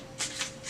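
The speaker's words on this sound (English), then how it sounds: "I'm done shuffling." Tarot cards being shuffled in short riffling bursts, three quick papery rushes ending in a sharper snap, close and fairly quiet.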